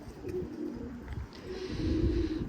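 Pigeons in a loft give low, soft cooing that swells and fades continuously, fairly close and steady, with no talking over it.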